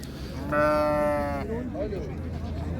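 A single drawn-out sheep bleat rings out clearly, followed by quieter shorter bleats against a steady outdoor rumble.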